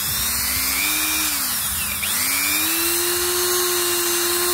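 A Dremel rotary tool, a Japanese domestic 100V model, whines steadily up close, its pitch dipping briefly and then rising again as the speed changes, with no talking.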